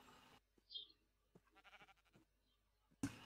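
In a Minecraft game, a sheep bleats as it falls, short faint bleats scattered among quiet game sounds, with a sharp louder burst at the end.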